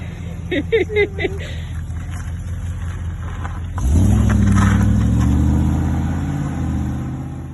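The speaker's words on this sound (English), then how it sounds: "Dad's gone out in the stag car, absolutely in his element" A classic Triumph Stag V8 pulls away and drives through the Hampshire countryside, its engine rising to a loud, steady rumble heard from inside the car.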